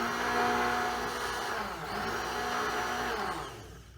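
A blender whirs continuously for about four seconds, frothing bulletproof coffee with butter, its steady motor hum shifting slightly in pitch midway before trailing off at the end.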